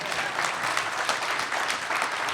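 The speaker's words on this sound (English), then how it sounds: "a round of applause for his wife." A live audience at a Formula One event gives a round of applause, a steady dense wash of clapping that carries evenly through the whole stretch without pause.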